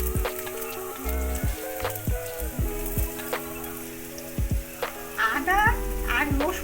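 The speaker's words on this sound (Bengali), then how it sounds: "রসুনটা ভাজা ভাজা হয়ে গেছে, এর মধ্যে আমি একটু আদা কুচি দিলাম" Chopped ginger drops into garlic already frying in hot oil for homemade hot sauce, giving a steady, close sizzle with crackling bursts, with tonal music playing underneath.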